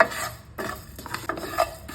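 Cumin seeds roasting in a pan for kachori filling, with a spoon scraping and stirring in irregular strokes and a faint sizzle, close and fairly quiet, no talking.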